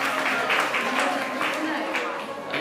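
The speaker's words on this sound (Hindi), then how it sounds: "पर एक बालक उठाया, इसलिए ताली बजाओ सब लोग।" An audience at a Jain religious discourse breaks into steady, moderately loud applause, the clapping continuing in rhythmic bursts beneath a voice.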